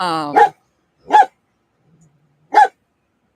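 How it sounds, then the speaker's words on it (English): A dog barks three times, loud and sharp with long gaps between, right after a person starts speaking. "I apologize for my dog in the background."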